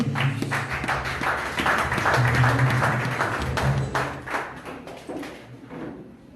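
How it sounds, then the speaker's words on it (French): A church congregation applauding during a sermon, a dense, sustained clatter of many hands nearby that swells and then gradually fades toward the end. "Acclamons bien pour le nom du Seigneur"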